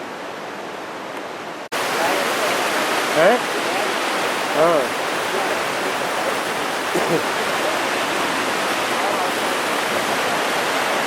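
Rushing water of the Son river in Uttarakhand, a loud steady roar of churning flow that fills the scene after an abrupt start, with brief spoken remarks over it.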